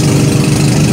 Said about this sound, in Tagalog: Ang ingay ng pampot.